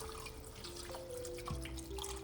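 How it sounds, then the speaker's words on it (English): Water poured into a pot of simmering Punjabi chicken curry, a steady close trickle and splash with a faint tonal hum underneath, no talking. "So I'm gonna add some more water."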